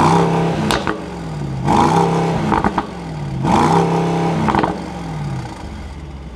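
A 2023 Mercedes-AMG SL63 Roadster engine revs up repeatedly, three or four loud rising-and-falling throttle blips with a raspy exhaust note, close by.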